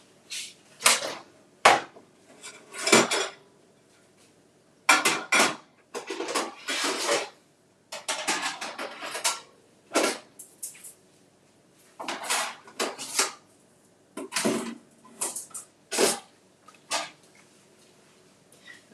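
An air fryer tray is pulled out and handled in a kitchen, with scattered metallic clanks, scrapes and rattles arriving in short bursts separated by quiet gaps, close and fairly loud, with no voices.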